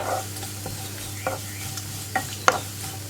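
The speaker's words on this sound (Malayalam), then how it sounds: "അതൊന്ന് പിടിച്ചു വരുന്നത് വരെ ഒന്ന് ഇളക്കി കൊടുക്കുക." Carrots and green peas being stirred in a frying pan for a thoran, with a steady soft sizzle and a few scraping clicks of the spoon against the pan.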